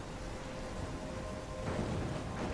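Steady rain and rumbling thunder from a storm in the video game Life Is Strange, a continuous wash of downpour that swells louder toward the end, with no talking.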